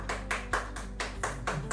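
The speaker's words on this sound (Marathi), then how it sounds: "ललिता मॅम टाळ्या वाजवायला सुरुवात करा." People clapping on the set of a TV serial wedding shoot: a small group beats out about eight fairly even, spaced claps over under two seconds, moderately close and somewhat faint, with a steady low hum underneath.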